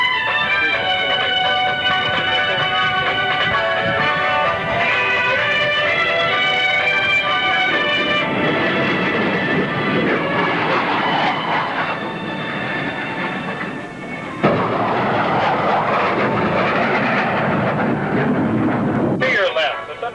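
USAF Thunderbirds jet aircraft passing at the 1986 Texas Air Expo in Waco, a loud sustained roar that swells and shifts as the jets fly by, with an announcer talking over it.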